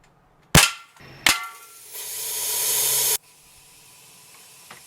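A sharp crack from a Crosman Legacy 1000 air rifle firing a Gold Flight penetrating pellet, then a metallic impact on a can, followed by a long hiss of escaping air that cuts off suddenly.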